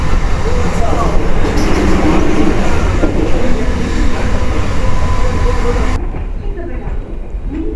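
Inside a moving passenger train on the Kolar line near Bengaluru, a loud continuous rumble and rattle of the carriage fills the space, easing slightly toward the end, with a voice faintly present underneath.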